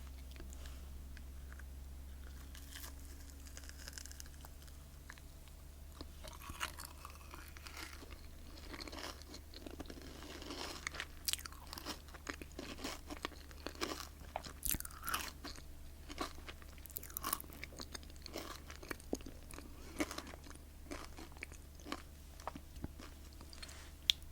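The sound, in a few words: biting and crunching crystal candy, guava or pomegranate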